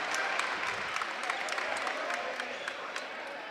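A home crowd at a boys' high school basketball game, Nashua North against Merrimack in a holiday tournament, gives off a steady wash of cheering and clapping. The sound holds level throughout, with a commentator talking over it.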